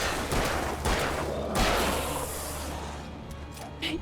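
Repeated gunfire in the video game Alan Wake, a dense, continuous volley of loud shots and thuds with game ambience, sustained for several seconds before thinning out near the end.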